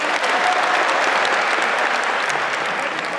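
An audience applauds Spetsnaz veterans at a competition in Saint Petersburg, producing dense, steady clapping that stays loud and even for a few seconds.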